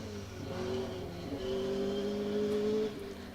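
An H1 class rally car driving a dusty forest stage at a 2WD rally, its engine droning and revving steadily at moderate distance, with no voices.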